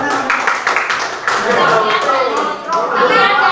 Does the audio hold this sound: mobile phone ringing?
no